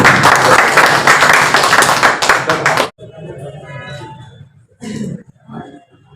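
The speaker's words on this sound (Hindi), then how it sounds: "अब जितनी ताकत हो उतना तालियां बजाएं भाई जोर से" An audience claps loudly and densely for about three seconds on request, then the applause cuts off and someone talks over a quieter room, with a brief burst of noise near the end.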